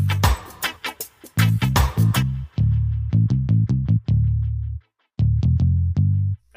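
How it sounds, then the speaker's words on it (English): A soloed palm-muted bass patch from a reggae bass rack in Ableton, playing short, thick plucked notes in a choppy rhythm with brief gaps, loud and upfront with nothing else playing. "then you're going to need a palm-sounding bass"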